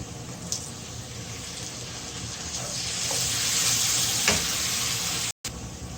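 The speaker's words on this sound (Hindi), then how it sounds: "थोड़ा पानी डाल के फ्राई करेंगे।" Masala with turmeric, red chili powder and crushed chili fries in a pan after a splash of water, giving a soft, steady sizzle with a few brief spikes and no talking.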